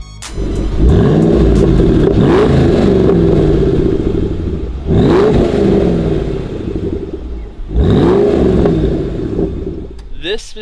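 A 2013 Shelby Mustang GT500 engine revs loudly and up close in three sharp bursts, each climbing then falling back to a rumbling idle, with a mechanical clatter between the revs.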